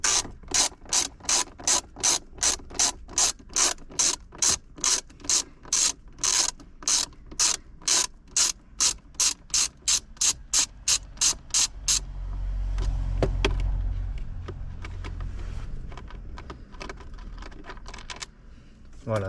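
A ratchet clicks in quick, even bursts while backing out screws from an Audi Q2 glove box, close and crisp. After the clicking stops, a low rumble and a few scattered knocks follow.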